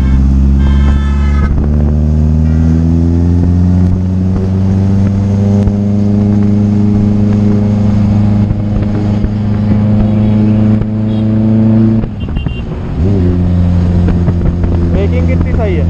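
A superbike engine holds a loud, steady drone while cruising in sixth gear, with wind rush over the microphone. The engine note dips briefly near the end, then pulls smoothly again.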